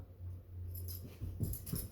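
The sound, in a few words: Cavalier King Charles dog whimpering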